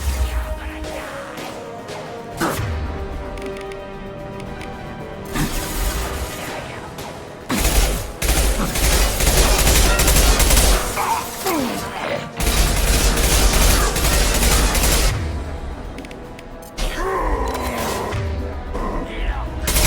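Heavy gunfire in the video game Mass Effect 2 comes in loud bursts of rapid shots and crashing impacts, with brief lulls between the volleys.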